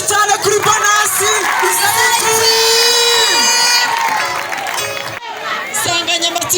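A school concert crowd in Gatenga cheers and whoops loudly, with shouting children and lively chatter mixed in, while a voice rings out over the noise; the roar dips briefly near the end before swelling again.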